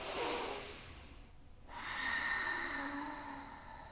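Deep, slow breathing during a leg stretch: a strong nasal inhale, a short pause, then a long, airy exhale, close and fairly soft.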